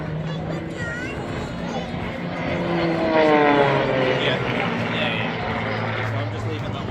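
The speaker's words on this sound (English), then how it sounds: "Still climbing as he snap rolls the aircraft to the top, and then inverted, brings it back down" An aerobatic propeller plane with a Lycoming 580 engine performs snap rolls and inverted passes at the Blackpool Air Show, its engine droning and rising in pitch at a distance while a commentator talks over it.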